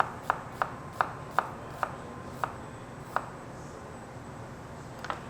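Knife cutting an onion into thin julienne ribbons on a board, a steady series of about eight crisp, near chops with a short pause before the last pair, no talking.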